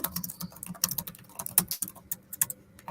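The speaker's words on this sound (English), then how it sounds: "just typing that in as things to cover later on as well" Rapid, uneven keystrokes on a computer keyboard, close and fairly quiet, tapping continuously with brief pauses.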